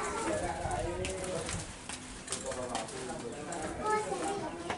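Perkutut zebra doves coo among many caged birds at a bird market, soft rolling calls mixed into a constant busy background while people talk nearby.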